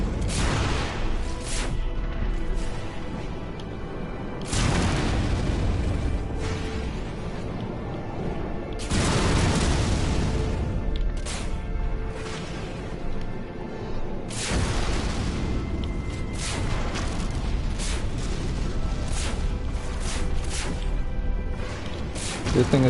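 Starships in No Man's Sky bursting apart after blasts from a multi-tool shotgun, with several loud, deep booming explosions that rise and decay in succession.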